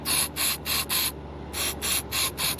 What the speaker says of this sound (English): You just want to spray up in there. Spray every orifice as you can.